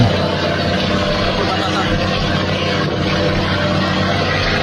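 A loud, steady motorboat engine roars continuously at close range as a Malaysian-flagged fishing boat speeds away from the navy, with wind and water noise mixed in and a faint babble of voices.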